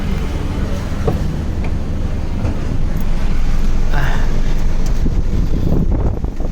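Air conditioning fan in a 2013 Mitsubishi Mirage blowing at maximum speed, a loud, steady broadband rush of air that fills the whole stretch, close to the vents.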